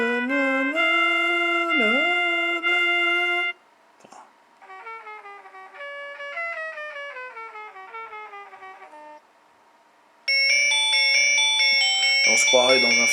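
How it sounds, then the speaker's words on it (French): A Zeblaze Crystal smartwatch plays several ringtones in turn: first a sustained electronic tone, then after a short gap a rising and falling chiming melody, then after another pause a bright, dense ringing pattern. All are loud and close. "Appel entrant, donc là vous choisissez vos sonneries"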